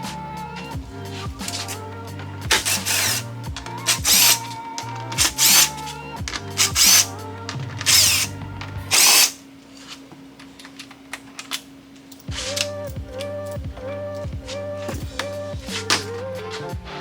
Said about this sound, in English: on the top here, you've got 6 T20 bolts that you're going to pull off